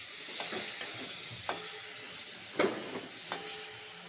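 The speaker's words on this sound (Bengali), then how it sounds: "ভালো ভালো করে ভালো করে ভাজা ভাজা করব আলুটা" A constant, soft sizzle of potatoes frying in a pan, punctuated by a handful of light utensil taps and scrapes.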